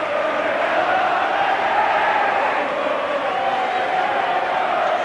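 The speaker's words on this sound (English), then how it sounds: "Ellery Hanley acknowledging the roars of the crowd" A packed crowd of 18,500 roars at a Wigan v St Helens Challenge Cup second-round rugby league match at Central Park, a dense, steady, loud wall of cheering that holds without a break.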